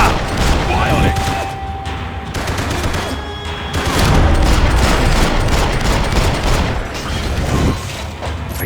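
Dense gunfire from the video game Max Payne 3: loud, nearly continuous bursts of automatic fire and shots layered over a busy combat soundscape, lasting the whole stretch.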